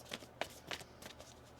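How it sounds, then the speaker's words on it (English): Tarot cards are shuffled in a few quick riffling bursts, close and soft, with short pauses between the brushing flutters. "One more shuffle"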